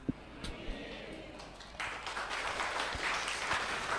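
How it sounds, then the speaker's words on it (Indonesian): Audience applause at a religious lecture, a faint scattered clap at first, then a steady wash of clapping from the crowd for the last two seconds. "Kenapa tepuk tangan?"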